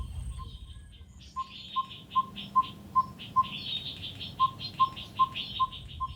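Two Burchell's coucals call back and forth in the bush, giving a steady series of evenly spaced, ringing notes at moderate distance over a soft background hum, with no talking.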